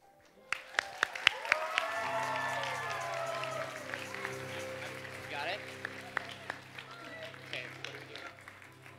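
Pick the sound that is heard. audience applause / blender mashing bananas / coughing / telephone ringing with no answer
audience applause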